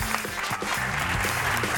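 Studio audience applause on an Argentine TV talk show, a steady wash of clapping with voices and other sounds over it.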